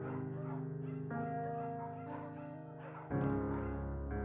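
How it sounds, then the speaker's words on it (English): A scruffy, undersized beagle in the Firewatch video game yips and whimpers softly over a sustained musical score, with a louder swell of music near the end. "There's a scruffy, undersized beagle."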